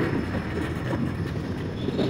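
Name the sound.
Indian locomotive 12902 train leaving Darshana station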